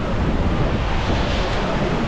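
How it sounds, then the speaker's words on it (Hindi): A waterfall on the Saraswati river near Mana village in Uttarakhand pours in a loud, steady broadband rush of falling water, constant and close, with no talking. "ये वाला झरना है और सरस्वती नदी है"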